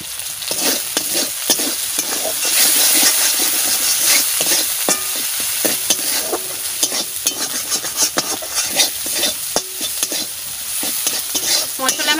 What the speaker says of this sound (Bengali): মশলা আমার ভাজা হয়ে গেছে, আমি জল ঢেলে দেব।